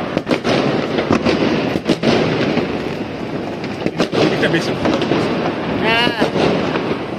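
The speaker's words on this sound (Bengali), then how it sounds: "বাড়ির ব্যালকনি থেকেই দেখে নিলাম ফায়ার ওয়ার্কস। চারিদিকে ফাটছে।" Midnight New Year fireworks seen from a home balcony in England, a constant crackling roar of bursts near and far with several sharper bangs and a rising whistle, while a voice talks briefly.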